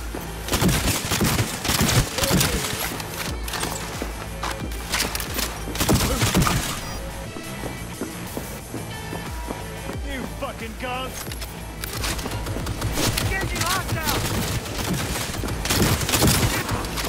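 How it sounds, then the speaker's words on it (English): Gunfire in Cyberpunk 2077 comes in sharp, loud bursts scattered among busy game music and effects, with clusters of shots near the start and again later, and speech passing through. "Opening fire."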